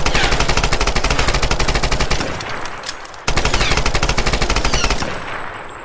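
Rapid automatic rifle fire from a modded controller in the Tomb Raider video game, a loud, dense stream of shots that breaks off briefly midway, then resumes in a second sustained burst.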